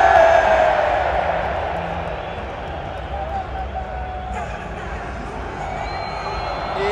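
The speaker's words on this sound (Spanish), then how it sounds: "Escuchen la ovación para Quiñones." Stadium crowd at the Estadio Azteca during a football final giving an ovation for Quiñones, a broad roar of cheering and clapping that starts strong and eases to a steady hum, with faint whistles and calls.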